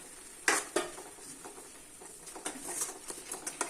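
Tomato chutney simmers in a pan while a utensil stirs it, giving soft sizzling and bubbling with a few sharp scrapes and clinks against the pan, close up and with no voices.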